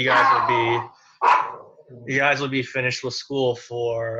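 A dog barks repeatedly indoors close by, sharp yips cutting in between and under a woman's speech.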